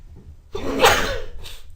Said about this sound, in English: pardon my sneezing